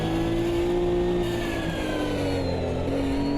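Nissan GT3 race car accelerating in a racing video game, a loud, continuous engine whine rising steadily in pitch through the gears, close and alone.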